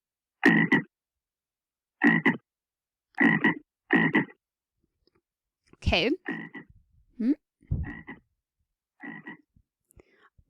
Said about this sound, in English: You identified that as some type of frog.